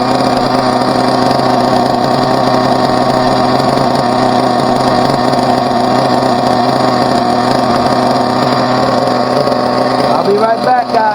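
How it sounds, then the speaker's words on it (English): A Team Associated RB RC nitro engine runs during break-in, buzzing steadily at a high pitch with small light revs, loud and close throughout; it dips briefly near the end. "We'll rev it here and there, not too much, light revs"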